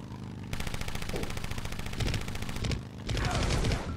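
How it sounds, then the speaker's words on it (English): Rapid automatic gunfire in the motorcycle combat game Road Redemption, dense clattering bursts that run almost continuously and swell louder near the end, with no talking. "Please stop shooting at me."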